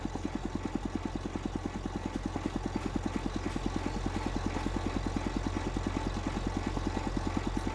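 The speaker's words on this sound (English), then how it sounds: "Funny that noise, the engine's making out that little like pop noise." A tractor engine in a farming video game on a Scottish Highlands map runs with a steady, rapid low putter of small regular pops, continuous and close throughout.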